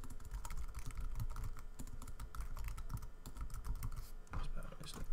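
Rapid keystrokes on a computer keyboard as an email address is typed, a dense run of close, quiet clicks with short pauses, no speech over them.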